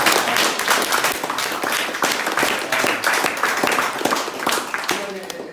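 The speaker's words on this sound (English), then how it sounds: "Can we have a quick round of applause for this?" A conference audience at a DigiByte talk gives a quick round of applause, with brisk, fairly close clapping that slowly tapers off.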